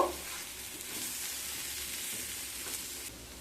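A ghee, chili and potato curry is stirred in a pan, making a soft, low sizzle with faint scraping. It stays quiet and even throughout.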